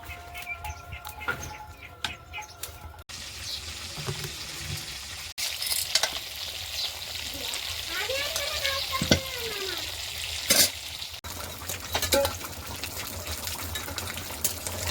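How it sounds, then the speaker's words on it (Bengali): Fish frying in a kadai in a home kitchen, a continuous oily sizzle with clinks and handling noises as pieces are lifted out, birds chirping in the background. "কাকিমা এই কড়াইতে মাছ ভাজছিল, মাছ এক খোলা ভাজা হয়ে গেছে, তুলে নিচ্ছে।"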